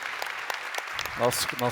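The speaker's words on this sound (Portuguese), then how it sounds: "uma salva de palmas para a gente encerrar aqui nossa" Scattered applause closing an agribusiness panel, a few sparse claps that build briefly while voices talk over the end.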